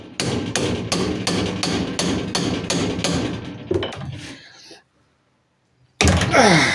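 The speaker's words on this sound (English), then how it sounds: "So the hammer time is in." A hammer strikes Alfa Romeo suspension parts in a steady run of about ten sharp metallic blows, loud and close, then stops, leaving a short silence before another loud noise bursts in.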